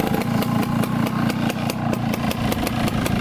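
A Beta 270 dirt bike engine runs steadily close by, a loud, rapid two-stroke putter with sharp regular pulses throughout and no talking.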